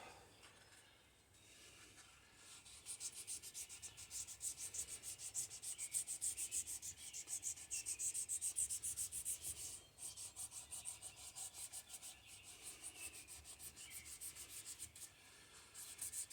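Steady scraping and rubbing as old gasket residue and rust are cleaned off a part of a 1957 Chevy Bel Air's 283 V8, a continuous abrasive sound starting after a quieter opening and running close and fairly loud to the end.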